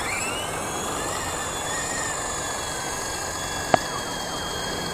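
A WLtoys V913 RC helicopter lifting off outdoors in gusty wind, a steady high-pitched rotor and motor whine holding even throughout, with one brief sharp click near the end.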